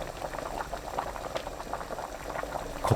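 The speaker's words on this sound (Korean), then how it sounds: "삼치 살코기, 다진 마늘 1큰술 넣고 센 불로 끓입니다." Spanish mackerel meat and a spoonful of minced garlic boil hard in 1.5 litres of water over high heat, a steady close bubbling and popping that continues evenly throughout with no voices.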